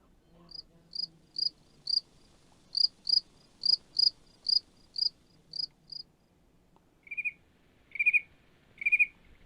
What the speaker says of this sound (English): Just a few of them singing together could come close to the original cricket chorus.